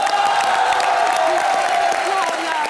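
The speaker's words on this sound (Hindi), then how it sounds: "सबसे पहले मेरे लिए जोरदार तालियां हो जाएं।" A television comedy show's studio audience cheering and clapping, a loud continuous crowd roar with whoops and shouted voices layered over it for the whole moment.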